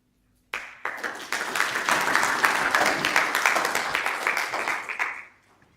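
Audience applause at a Sacco Summit after a Kingdom Bank presentation, starting abruptly and holding a dense, steady clatter of many hands for about five seconds before fading out.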